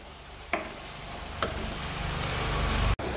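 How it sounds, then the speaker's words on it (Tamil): Onions fry for a spicy dried anchovy curry, giving a steady close sizzle with a few sharp spoon scrapes against the pan and a brief cut near the end. "இப்போ நல்லா இது ஃப்ரை ஆகணும்,"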